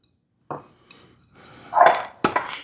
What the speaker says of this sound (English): we're going to add our 4 ounces of cream cheese